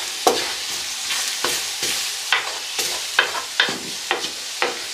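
A spoon stirs curry powder through a pot of Guyanese cooking, with a steady run of about a dozen distinct scraping and clinking strokes over a soft sizzle, close and fairly quiet with no talking.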